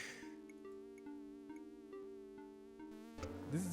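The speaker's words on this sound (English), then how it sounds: "This fly is so fucking finicky." Buzzing fly in the Space Quest video game, a steady synthetic insect drone with pulsing, clicking modulation, faint and continuous, followed by a brief rising chirp at the end.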